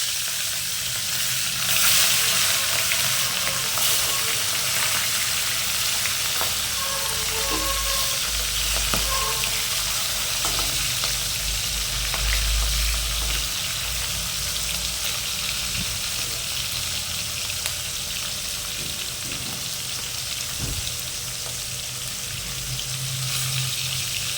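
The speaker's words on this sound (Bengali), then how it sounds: "এবার তেল গরম হয়ে গেছে, কড়াইয়ে আমরা মাছের মাথাগুলো দিয়ে দিই।" Hilsa fish heads frying in hot oil in a wok, a continuous close sizzle and crackle with occasional stirring sounds throughout.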